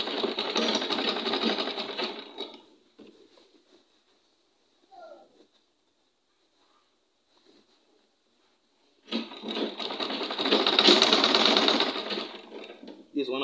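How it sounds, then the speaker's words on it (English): A sewing machine stitches a bishop collar on a shirt in two loud, steady whirring runs, close up, separated by a quiet pause with a few faint handling clicks. "We are sewing right in between so that the thread will not be exposed. So we're sewing gradually."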